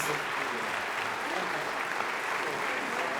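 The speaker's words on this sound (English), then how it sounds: "Warm applause from the audience, obviously liking the world premiere of Fire Flowers." Warm, sustained audience applause fills a concert hall after the world premiere of the choral piece Fire Flowers, a dense, even wash of clapping with no talk.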